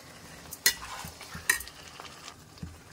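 Boiled, ground palak spinach cooking in a pan, a soft sizzle broken by a few sharp clinks of a spoon against the pan and gentle stirring.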